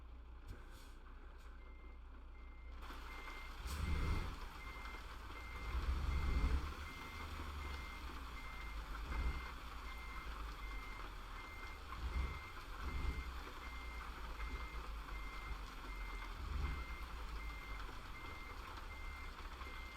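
A truck in a video game reverses to back in a load, its steady repeating reversal beeper sounding throughout over a low engine rumble, with a few louder low thumps along the way and no talk.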